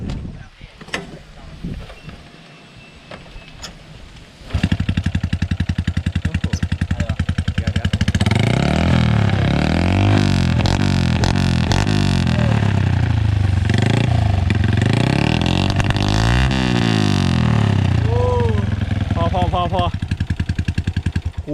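After a few quiet seconds a modified Honda Wave 110i motorcycle with a 53 mm piston bursts to life and revs hard and loud up close, pitch repeatedly climbing and dropping.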